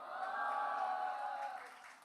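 A church congregation at a Sunday service applauds, with a steady wash of clapping and a few sustained vocal 'oh' reactions that fade toward the end.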